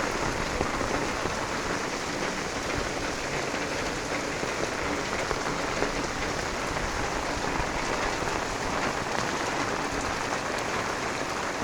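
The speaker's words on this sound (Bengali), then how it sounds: "প্রচুর বেগে বৃষ্টি হচ্ছে," Heavy early-morning rain pours steadily onto an empty road, making a dense, unbroken hiss of drops that stays loud and even throughout.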